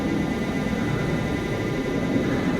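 A WLToys F959 Sky King RC airplane flies at half throttle, giving a continuous, steady electric motor and propeller drone. The hum holds at a constant level for the whole stretch, with no voices over it.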